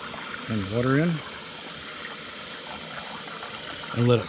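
Water running into a Jayco Jayflight camper's tank, a steady, soft rushing hiss that continues throughout, broken by two short bursts of a voice.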